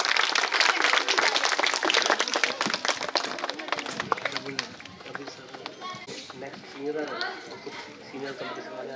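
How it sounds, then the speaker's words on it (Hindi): An audience at a school annual function applauds to welcome a guest, loud dense clapping that gradually thins as chatter and voices rise underneath. "सबको एक बार दोबारा बोलता हूं कि जोरदार तालियों से स्वागत किया जाए"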